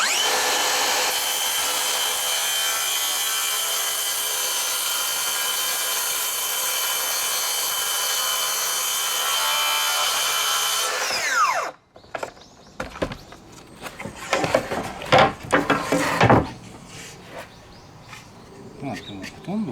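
A Makita 40Vmax SP001GZ 165mm cordless plunge circular saw cuts through wood along an aluminum guide rail, its loud, steady high whine holding for about eleven seconds before winding down into scattered clatter and handling knocks.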